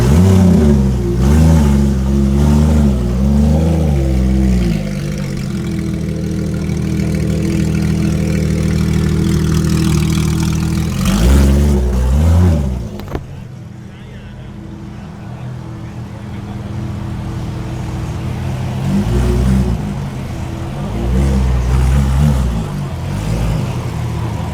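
Loud exotic sports car engine revving hard at an outdoor car show, with repeated deep roaring revs that rise and fall, a brief dip, then more revving, and some voices in the background.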